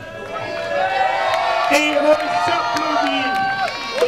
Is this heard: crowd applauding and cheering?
yes